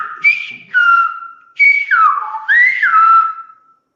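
Silbo Gomero, the whistled language of La Gomera, carries in a sequence of four or five sharp, close whistled phrases that glide up and down in pitch with short gaps, clear and alone.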